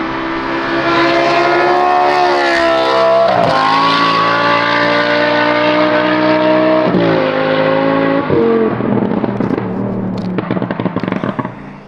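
A Lamborghini fitted with an F1-style exhaust revs loudly and up close, its tone rising and falling through several throttle blips with a brief drop near the middle before climbing again, then winding down toward the end.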